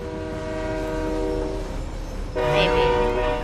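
A video game train rolls along steadily with a sustained multi-tone horn blaring over it, the horn shifting and growing louder partway through as the running noise continues underneath.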